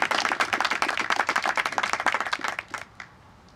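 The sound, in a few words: audience applause for soldiers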